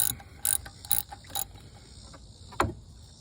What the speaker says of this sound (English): And I'm going to take these two bolts out.